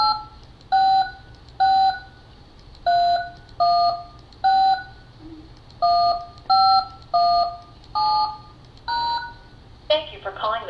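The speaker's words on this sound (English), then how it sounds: "They need to dial the phone conference number." Keypad tones sound as a phone conference number is dialed, about a dozen evenly spaced crisp beeps, close and clear, ending in a brief burst of line sound.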